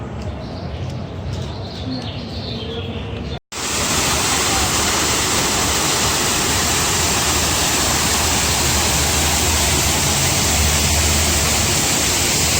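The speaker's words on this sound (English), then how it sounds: "It may not be real, but it is a waterfall." An artificial waterfall splashes in a courtyard in Honolulu, a steady loud broadband rush of falling water that swells in after a brief quiet start with faint birdsong, then continues unbroken.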